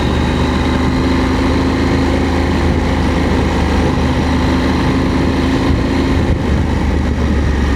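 KTM 890 SMT motorcycle ridden with a pillion passenger, a loud steady engine drone mixed with rushing wind and road noise, continuous and close throughout.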